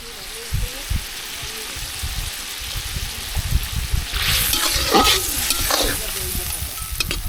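Small tangra fish with brinjal bubble and sizzle in a pan after water and turmeric are added, a continuous close frying hiss with stirring knocks and a louder splashy burst midway, with a voice speaking over it.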